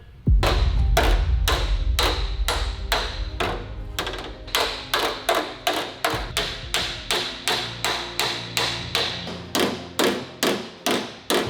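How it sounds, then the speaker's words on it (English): Hammer and dolly beating shape back into a damaged Toyota Supra body panel, giving a run of sharp, ringing metallic blows that settle into a steady, evenly spaced rhythm of roughly two strikes per second. "I usually just like to grab a dolly and a hammer, and we'll work some shape back into the panel"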